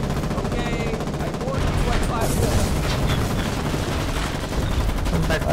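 Battlefield fire in the war video game Foxhole: gunshots and rocket blasts clatter and boom in a dense, continuous barrage with a tank under attack, while a player's voice talks over the din.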